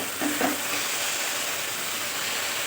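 Okra chorchori with mustard paste sizzles and hisses steadily in an uncovered pan, with a couple of brief stirring scrapes near the start, then an even frying hiss.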